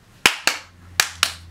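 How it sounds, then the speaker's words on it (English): Four sharp hand claps ring out in two quick pairs, close and loud, with a low steady hum beneath and no voices. "Gotta have some claps in there because I've been clapping quite a bit throughout this video."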